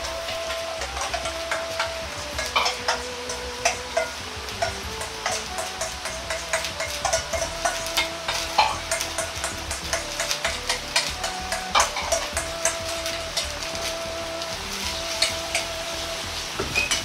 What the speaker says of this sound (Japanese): 合わせたものを鍋に入れ火にかけます。